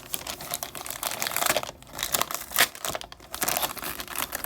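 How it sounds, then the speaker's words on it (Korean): Paper and plastic packaging around a pre-ordered book crinkles and tears while being opened, with steady close crumpling broken by a few louder ripping bursts and brief pauses. "오, 이렇게 같이 뜯게 되다니."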